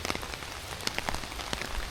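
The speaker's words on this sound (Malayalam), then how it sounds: "മഴ കൂടി മഴൻ്റെ സൗണ്ട് കേൾക്കുന്നുണ്ടോ?" Steady rain patters on a surface, with scattered sharper drops ticking through the continuous hiss.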